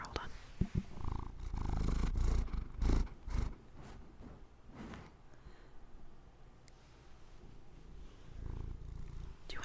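A cat sitting on a lap purrs very close up, a soft low rumbling purr in close-miked ASMR whispering conditions, with brief breathy noises and handling sounds around it.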